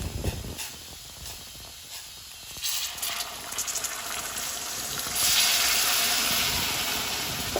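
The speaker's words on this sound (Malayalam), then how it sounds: "അപ്പം ഞാൻ കുറച്ച് ചൂടുവെള്ളം ഒഴിച്ചു കൊടുക്കുന്നുണ്ട്" Hot water is poured into a pan of crab curry, starting with clattering handling and then turning into a loud, steady hiss and bubbling as the water hits the hot masala, close up with no talking.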